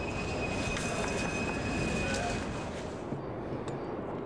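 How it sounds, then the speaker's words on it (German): A train running on the elevated Berlin Stadtbahn near the former border, heading toward Lehrter Stadtbahnhof; a close, continuous rumble of wheels on rails with a thin high squeal throughout, easing off toward the end. "Der Zug passiert auf dem Weg in Richtung Lehrter Stadtbahnhof die ehemalige Grenze."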